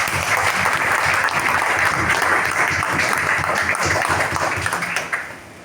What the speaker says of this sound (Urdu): اس کے لیے ذرا ایک تالیاں بجائیں